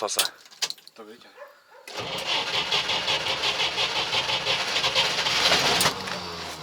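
A car engine cranks with rapid starter whirring, then catches and runs roughly at a fast, loud rev for several seconds, with brief speech beforehand.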